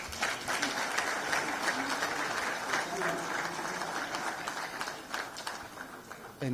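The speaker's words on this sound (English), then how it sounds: "Let's give a resounding round of applause" A conference audience applauds after a presidential address at an African Peer Review Mechanism meeting, steady clapping with some voices mixed in before it fades near the end.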